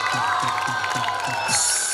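A school audience at a silver jubilee celebration in Padmapur claps and cheers, with steady applause, crowd noise and children's shouts blending into one continuous, lively roar for a couple of seconds.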